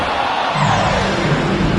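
In the NBA 2K25 basketball video game, an arena crowd roars and cheers after a fan's half-court shot, a loud, dense, steady wash of noise throughout.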